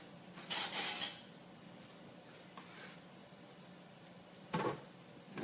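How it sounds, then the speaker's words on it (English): A spatula scrapes and shifts smashed potatoes onto a sheet pan in a home kitchen, two soft scraping clatters spaced a few seconds apart over quiet background. "I'm going to move it to the sheet pan. I think I'll use a spatula so I don't lose any of that delicious potato."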